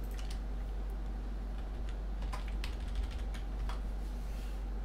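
Quick, light clicks from a computer mouse or keyboard while a lighting preset is recorded in a programmer, faint ticking bursts over a steady low hum.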